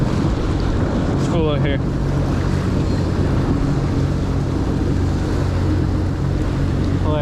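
A jet ski engine drones steadily out on open water, with heavy wind rush buffeting the microphone throughout and a brief spoken remark partway through.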